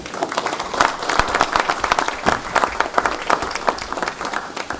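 A roomful of people at a school board meeting applauds with steady, dense clapping that holds at an even level from start to finish without letting up.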